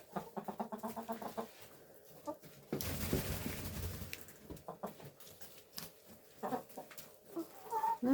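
Hens cluck in a winter chicken coop, with rapid clucking runs, scattered calls and a burst of rustling and scratching in the middle, close and moderately loud, with no talking.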